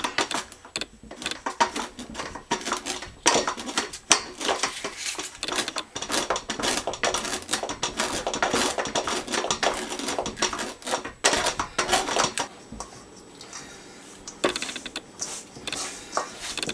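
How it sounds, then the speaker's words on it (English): A stick of frozen butter rasped against a grater in quick, steady back-and-forth strokes, close and crisp, briefly pausing and then resuming near the end. "Grate in 1 stick of frozen butter."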